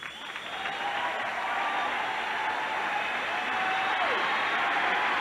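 Audience applause and cheering for a bodybuilder on stage at a bodybuilding competition, a steady, loud wash of clapping and crowd noise that swells and holds throughout.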